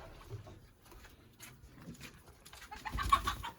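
Chickens clucking softly nearby, with scattered calls that grow busier and louder toward the end.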